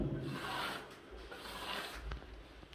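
A clean, damp steel trowel compacting concrete-effect decorative plaster on a bathroom wall, heard as two soft, sweeping rasping strokes close by.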